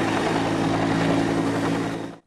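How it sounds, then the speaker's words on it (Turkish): Loud, steady rotor drone of a low-flying helicopter over a city centre in Bursa, a dense continuous roar that cuts off abruptly at the end, with no talk. "Bursa'da şehir merkezinde alçak uçuş yapan helikopteri gören vatandaşlar paniğe kapıldı."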